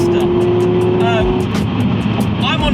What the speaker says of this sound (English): So I just took that long sweeping bend at 100 miles an hour, and the car didn't flinch